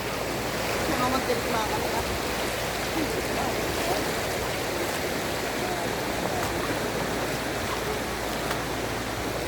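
A river current rushes steadily with churning waves, a broad continuous wash at moderate distance, while people talk briefly over it.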